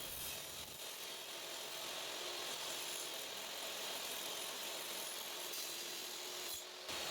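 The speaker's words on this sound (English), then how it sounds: "Here we are, cutting the mounting block to the length that we need." A saw fitted with a Makita Max Efficiency blade cuts a wooden mounting block to length, giving a loud, steady rasping cut that runs almost unbroken from start to finish and stops briefly near the end.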